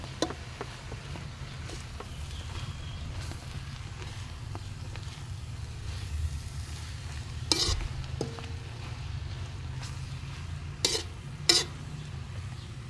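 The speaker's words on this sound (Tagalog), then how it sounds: "ilagay na din natin ang bell pepper para sumama na yung aroma niya, yung lasa sa niluluto natin." Bell pepper cooks in a pan of Filipino bopis, a soft steady sizzle running low and constant with a few sharp scrapes of a utensil now and then, no talking heard.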